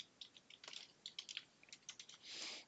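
A password is typed on a computer keyboard in quick, uneven bursts of crisp key clicks, close and quiet, ending in a longer soft press.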